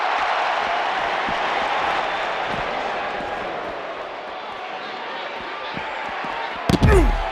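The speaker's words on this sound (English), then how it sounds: "We've got a raucous crowd here in Philadelphia tonight" A raucous wrestling crowd in a Philadelphia arena roars as a continuous dense wash of cheering and noise, with scattered claps and thuds, ending in a sharp loud slam near the close.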